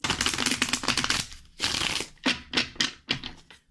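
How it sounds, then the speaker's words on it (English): Tarot cards shuffled by hand, a long riffling burst followed by several shorter rapid flutters, close and crisp with no talk. "Let's shuffle."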